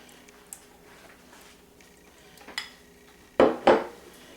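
Diced onions and carrots dropped into a pot for braised pot roast, giving a few quiet clinks and then two sharp, close clattering hits of food and metal near the end, with no talking.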